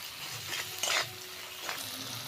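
Spices with Kashmiri chilli powder, turmeric and salt frying for prawn malai curry, a soft continuous sizzle with a couple of brief spatula scrapes against the pan, quiet and close, no voices.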